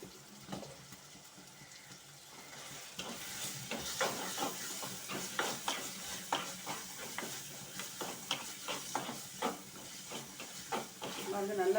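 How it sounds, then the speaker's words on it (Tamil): Five green chillies and a pinch of chilli powder sautéed in a pan for stingray fish curry, a steady hissing sizzle with rapid repeated stirring scrapes growing busier and louder. "பச்சை மிளகாய் 5 நல்லா வதக்கணும்"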